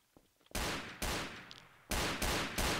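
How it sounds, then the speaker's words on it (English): Loud gunshots ring out in a Garry's Mod Trouble in Terrorist Town round after a quiet, faintly busy start, with five sharp blasts in uneven succession, each trailing off in a brief decaying tail. "Who is firing?"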